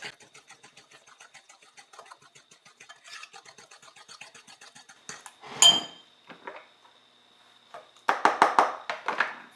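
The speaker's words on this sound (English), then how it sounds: "I'm going to stir this in before I add my zucchini." A spoon works through zucchini bread batter in a bowl, making a steady rhythmic ticking that gives way to a few louder clinks and scrapes near the end.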